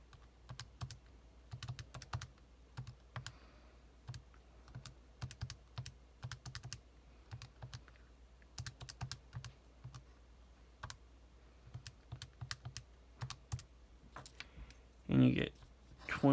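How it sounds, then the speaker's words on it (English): Calculator number keys tapped in quick, irregular bursts of light clicks, fairly faint and close, with short pauses between runs and a brief louder rustle near the end. "type all that in your calculator"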